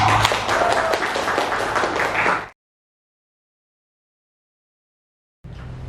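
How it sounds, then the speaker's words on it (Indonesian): A group of people gives a short round of applause at the close of a school coaching session. Brisk clapping runs for about two seconds, then cuts to silence, with a faint bit of room noise returning at the end. "Sekali lagi beri tepuk tangan."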